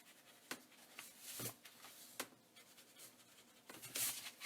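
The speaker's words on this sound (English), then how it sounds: "you can come in with your eraser and erase those little marks" An eraser rubs out small pencil marks on paper at a close crafting table, making quiet irregular scrubbing strokes with a few brief louder swipes, heard alone without any talk.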